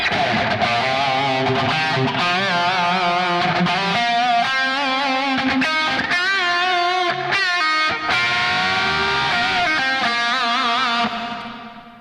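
A distorted electric guitar solo, played loud and upfront with bends and fast runs, drenched in delay and a reverb tail, ending on a fading sustained note.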